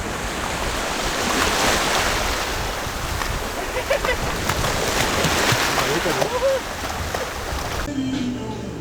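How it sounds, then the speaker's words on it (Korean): Ocean waves wash in at the shore in Jeju, giving a steady broadband roar with wind buffeting the microphone. It sounds close and continuous, then cuts off briefly near the end. "바다 끝에서 파도만 부는 게 아니고 이렇게 바다 안쪽까지 들어와요"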